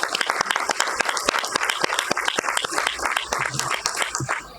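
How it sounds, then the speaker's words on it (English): Plenary session audience giving a standing ovation to three staff members, loud, close clapping from many hands with sharp individual claps standing out, continuous for several seconds before starting to thin at the end. "they deserve a standing round of applause"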